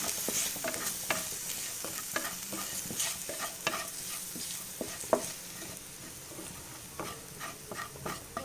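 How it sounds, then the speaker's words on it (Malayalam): A spiced mixture with Kashmiri chili and chicken is sautéed in a pan, giving a soft continuous sizzle broken by repeated scraping and stirring knocks from a utensil, close up and without talk. "ചിക്കൻ മണം മാറണ വരെ ഒന്ന് വഴറ്റുക"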